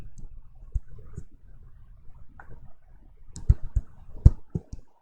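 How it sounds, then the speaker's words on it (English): A computer mouse clicks in quiet room tone, a handful of sharp, close taps scattered irregularly, with a tight cluster of clicks near the end. "So next I click on OK."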